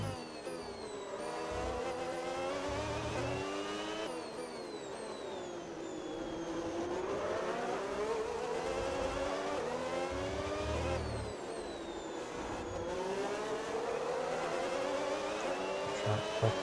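Red Bull F1 car engine in F1 26 screams loudly and continuously at high revs, pitch climbing through upshifts and dipping on downshifts, with other cars' engines faintly alongside.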